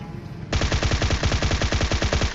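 Rapid automatic gunfire in PUBG Mobile erupts after a brief quiet moment, a loud, steady stream of closely spaced shots that continues unbroken to the end.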